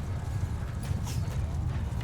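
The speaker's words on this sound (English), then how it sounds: "Horses at their charge! Cavalry!" Cavalry horses charge across a battlefield in Mount & Blade II Bannerlord, a dense, steady rumble of many hooves thudding close and continuous with no clear gaps.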